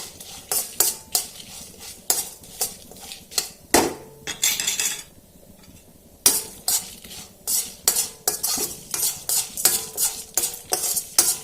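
Urad and moong dal being roasted in a pan for tamarind chutney clatter under a metal spatula in a rhythmic run of loud scrapes and knocks, with a faint frying hiss between strokes and a short pause midway.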